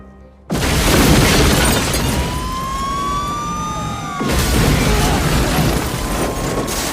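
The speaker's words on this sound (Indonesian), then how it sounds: "Quick langsung meledakkan tempat itu karena tempat itu sudah dikepung oleh anak buah Trent" A huge explosion erupts after a brief quiet moment as a crab farm is blown up in an action film, followed by a sustained loud roar and rumble with wailing siren-like tones sliding over it and a second surge of blast noise.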